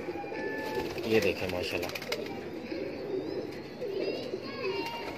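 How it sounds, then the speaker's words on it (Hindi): A Salara teddy pigeon coos in low, repeated rolling calls close by, while someone talks over it throughout. "ये एक सलारा टैडी कबूतर दिया है"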